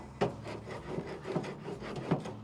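A wooden paddle scrapes back and forth over straight grill grates on a Char-Griller Gravity 980 cooker, giving four or five close, rhythmic rasping strokes.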